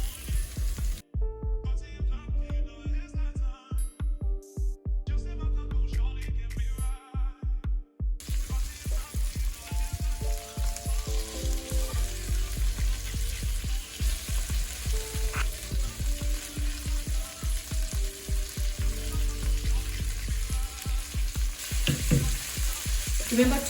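Mixed vegetables fry and sizzle loudly in a hot pan, with a constant crackling hiss and repeated scraping strokes of a spatula, close up and continuous, while faint music plays briefly near the start.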